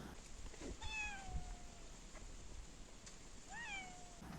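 A house cat meows twice, a few seconds apart. Both are drawn-out, fairly faint calls over a low steady background hum, with no talking.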